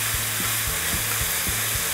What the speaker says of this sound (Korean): 센 불에 볶아주셔야 돼요